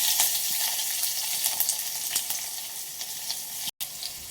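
Cumin seeds, curry leaves and garlic crackling in hot tempering oil, a dense close sizzle with small pops and spatters, no talking.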